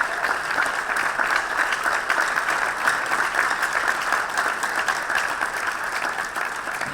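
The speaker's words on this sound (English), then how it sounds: "Please clap for them." An audience claps steadily for faculty and facilitators at a Change Agents Academy graduation, a dense, even wash of applause that holds at the same loudness throughout with no voices over it.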